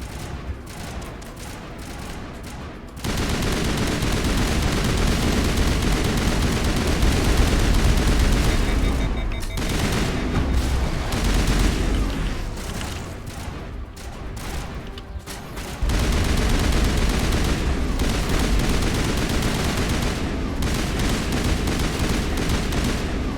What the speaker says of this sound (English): There must be a way to shut that gun down.